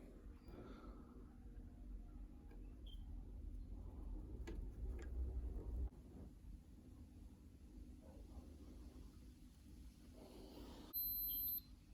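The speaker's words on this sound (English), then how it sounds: "you should hear the beep" Quiet handling and shuffling noises while repairing a washing machine rotor position sensor, then near the end a multimeter's steady, high continuity beep sounds for about a second before cutting off.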